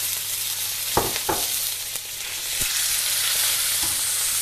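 Meat sizzling in hot olive oil in a pan for a Chinese-style spaghetti one-pot dish, a steady loud fry with a few sharp clatters and stirring knocks near the start, no talk.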